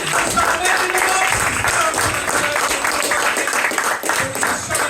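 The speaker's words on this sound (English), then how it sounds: "Big round of applause for the wonderful food staff back in the back." A crowd at a Colchester Fringe hypnosis comedy show applauds the food staff: a dense, steady wash of clapping, loud and close, that runs unbroken throughout with voices mixed in.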